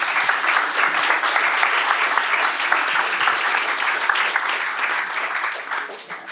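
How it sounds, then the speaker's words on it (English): A festival audience at talks and poetry gives steady, dense applause that carries on evenly and fades slightly near the end. "please give a big applause"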